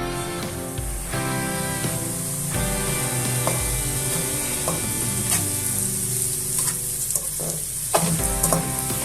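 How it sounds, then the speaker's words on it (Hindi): Semolina sizzles and fries in hot ghee in a kadai, a loud, steady crackling hiss with scraping stirring strokes repeating throughout. "घी हमारा गर्म हो चुका है। अब इसमें हम सूजी को शामिल कर देंगे।"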